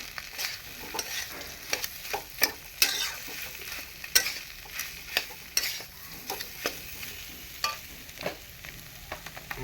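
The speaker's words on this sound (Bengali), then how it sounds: "এইভাবে একটু নেড়ে চেড়ে পুরটা বানিয়ে নেবো আলু" Potato filling is stirred in a hot pan, giving a continuous low sizzle broken by regular sharp scrapes of the spoon against the pan, close and moderately loud, with no talking.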